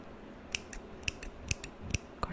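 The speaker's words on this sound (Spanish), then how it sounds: "Otro trigger que a mí me encanta es el de las tijeras." Scissors snip close to the microphone as an ASMR trigger, a series of quiet, crisp metallic cuts in an uneven rhythm against near silence.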